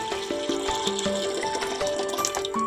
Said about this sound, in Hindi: अब इसके अंदर हम डालेंगे अपना पानी